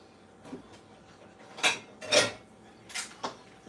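Metal pots and pans clatter and clank in a home kitchen as someone rummages for a pan, a few separate bursts of banging that are close but fairly quiet, with no talking.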